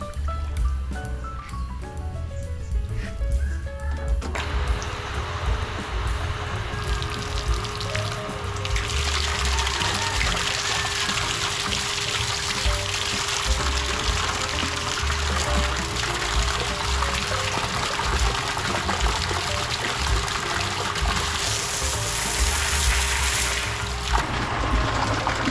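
Water gushes steadily from a pipe fed by a Pedrollo half-horsepower water pump, a loud continuous rushing flow that starts after a few seconds and holds strongly for most of the stretch.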